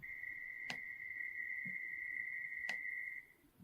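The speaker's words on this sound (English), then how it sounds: "So let's do a narrow band of noise centered around 2 kilohertz." Steady narrowband noise band centered around 2 kHz, used as an audiology acoustics demonstration, holds a continuous hiss-like tone with two brief clicks, fading out at the end.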